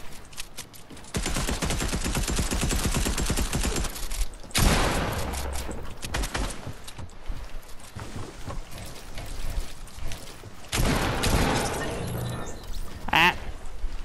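Rapid automatic gunfire in the Fortnite video game rattles in long, dense bursts that run almost nonstop, broken by a brief pause and a few sharper shots near the end.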